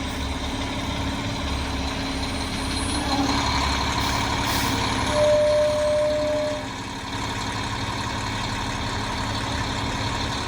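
A heavy concrete truck engine idles and rumbles steadily, swelling slightly as it draws near in snowy, freezing weather, with a short air-brake hiss and no voices.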